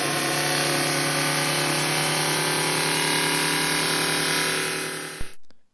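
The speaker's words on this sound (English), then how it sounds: "So I've grooved it all out using the belt sander" A belt sander fitted with a coarse 3M belt grinds grooves into a damaged plastic Vauxhall Corsa bumper, a loud steady motor whine with a constant abrasive hiss that continues without pause before cutting off abruptly at the end.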